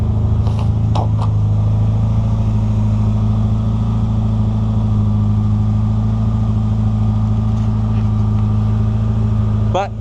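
A Mazda Miata engine idles slightly high after being revved, a steady low droning hum running continuously and close throughout.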